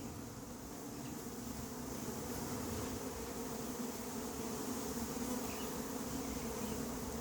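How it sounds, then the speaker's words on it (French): A recovered swarm of honeybees crowds back into a hive, their dense, even buzzing droning steadily and close for several seconds with no voices. "Je laisse les abeilles rentrer dans la ruche"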